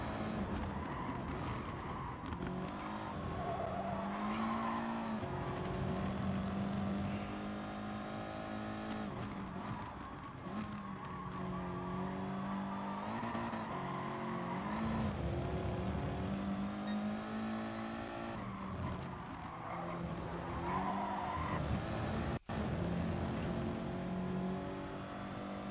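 Two race cars battle for first place in GT Sport, front-wheel-drive engines droning and revving steadily with rising and falling pitch as gears shift, tires squealing now and then, loud and continuous throughout.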